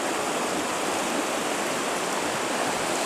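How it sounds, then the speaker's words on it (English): A mountain stream rushes at a stream crossing in the Tararua Mountains. The water makes a loud, steady, close wash with no break and no talk. "First stream crossing."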